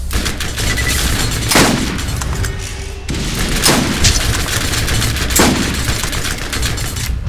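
A 12-gauge shotgun fires in the video game Borderlands, several loud booming blasts spaced seconds apart over dense, continuous game noise.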